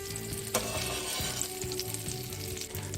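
Oil and butter sizzling in a hot pan for crispy-edged pancakes, a steady frying hiss with a low humming background and a sharp clatter near the start, no talking.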